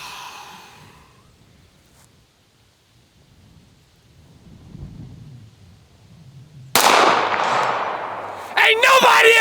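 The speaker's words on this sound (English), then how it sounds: "120 yard pistol shot on the armadillo." A pistol shot fired at an armadillo about 120 yards away cracks out loud and sudden near the end, followed by a second burst, after a long stretch of quiet.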